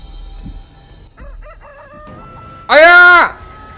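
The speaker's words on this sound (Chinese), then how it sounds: "我听到鸡叫声" A rooster crows in the video game Chicken Feet, one loud, close cock-a-doodle-doo near the end, after a few short thin bird-like calls and faint background sounds.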